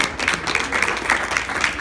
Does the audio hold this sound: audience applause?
yes